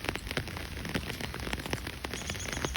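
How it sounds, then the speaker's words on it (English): Steady rain pours down hard outdoors after a full day of rainfall, a dense, continuous hiss with scattered close drop impacts and no voices. "it's supposed to rain really hard after it's been raining all day"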